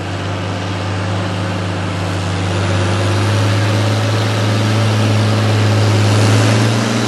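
A Conshot 1755 pulling tractor, the same tractor as an Oliver, idling at a tractor and truck pull in Langford, New York, a loud, steady low-pitched engine drone with a strong humming rumble that rises slightly partway through.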